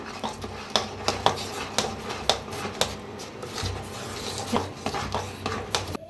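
Thick jaggery puran filling for puran poli is stirred in a pot on the stove, giving steady scraping and clinking strokes with sharp knocks of the spoon against the pot, close by and without talk.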